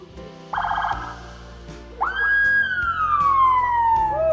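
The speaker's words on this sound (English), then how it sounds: "The sirens today aren't sounding for an emergency, but to mark a surprise birthday visit" Police sirens start up: a brief blare, then a loud wailing siren sweeping down in pitch and holding steady, close by.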